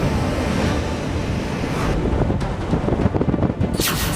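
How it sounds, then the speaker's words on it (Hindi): Strong cyclone winds and high sea waves batter the Odisha coast during Cyclone Yaas, a loud continuous roar of surf and gusting wind buffeting the microphone, with no voices. "समुद्र में उठती ऊंची ऊंची लहरें"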